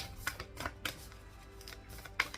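A deck of tarot cards is shuffled by hand at close range, with several soft riffling bursts and light taps in quiet surroundings.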